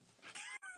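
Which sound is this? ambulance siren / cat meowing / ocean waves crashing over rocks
cat meowing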